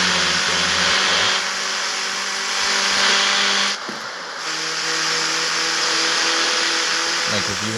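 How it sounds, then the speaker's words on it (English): A car speeds down a long downhill highway stretch in the racing game CarX Street, its engine droning steadily with a brief dip in the middle before it rises again, loud and continuous. "this downslope is really good for building up speed"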